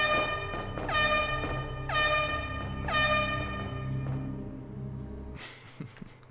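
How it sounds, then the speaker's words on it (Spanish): Horn siren in the Resident Evil 2 video game, three loud, evenly spaced wailing horn blasts, each sliding down in pitch over a low droning background, then fading before a short noisy burst at the end. "Mola mucho cómo suena la sirena esa."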